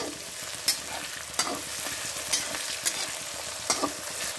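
Green chillies, ginger and onion fry on full flame in a pan, a continuous close sizzle broken by several spoon scrapes and clinks as they are stirred, with no voices.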